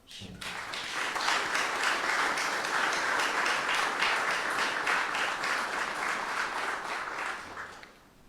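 Dense, sustained audience applause at the Festa das Rosas, a religious festival in Vila Franca, swelling quickly and holding steady for several seconds before tapering off at the end.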